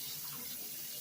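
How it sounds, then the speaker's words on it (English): Tap water runs steadily over a spoon at a kitchen sink, a continuous close hiss and splash filling the brief moment. "So I'm heating up my spoon with some water."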